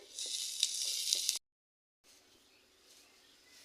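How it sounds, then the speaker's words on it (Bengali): Bay leaves and dried chillies sizzle in hot oil for chili-laced potato greens, a steady bright hiss with a few pops, then a short silence before a softer, quieter frying resumes. "তেজপাতা শুকনা লঙ্কা কয়টা টুকরো টুকরো করে দিয়েছি এখন গোল্ডেন হওয়া পর্যন্ত ভাজি করব"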